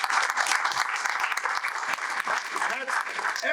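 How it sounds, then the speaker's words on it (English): Dense, sustained applause from an evening charity toy-drive audience honoring event sponsors, a loud wash of many hands clapping continuously with no pause. "Let's give a round of applause."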